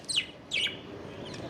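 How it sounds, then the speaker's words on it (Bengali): An oriental magpie-robin perched on a rooftop gives two bright, quick chirps close by, followed by a fainter third call over a quiet background. "দেখেন উপরে ওটা কি, একটা দোয়েল পাখি।"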